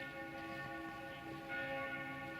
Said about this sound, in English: Bell of the necropolis clanging away in the background, with it being Sunday probably.